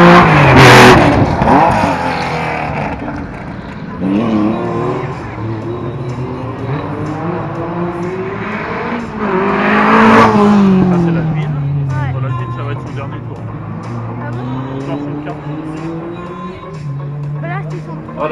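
Porsche 924 Carrera GT rally car, number 203, leaving the start of a rally prologue along the seafront: the engine revs and climbs through gears, rising and falling in pitch, with a commentator talking over it throughout.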